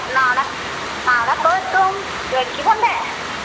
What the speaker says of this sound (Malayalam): ഇവിടെ നല്ല മഴ പെയ്യുന്നുണ്ട്